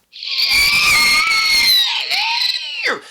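A voice imitates a creature's shrill scream, one long high-pitched wail that wavers, then dips and breaks off in a short squeal at the end.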